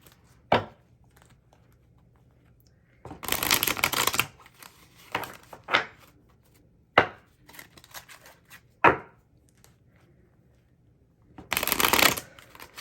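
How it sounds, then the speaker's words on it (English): Tarot cards are shuffled in short bursts of riffling and slapping, with a few sharp taps and soft handling sounds between them; close, quiet room, no talk. "Okay, then shuffle the other half."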